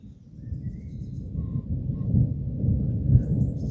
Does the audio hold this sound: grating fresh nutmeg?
no